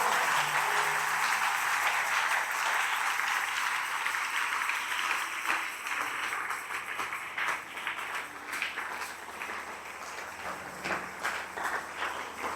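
A church congregation applauds in sustained, dense clapping that fills the room, loud at first and gradually thinning and fading toward the end.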